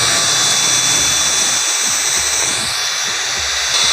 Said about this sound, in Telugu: మోటార్ చూసారు కదా ఎంత స్పీడ్గా అయితే తిరుగుతుంది